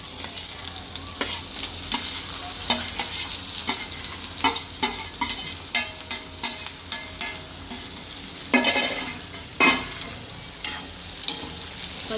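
Fried tindora (ivy gourd) tossed with cumin, asafoetida and sesame seeds in a hot pan, sizzling steadily under repeated scraping and clattering stirs that come in irregular bursts, with no talking.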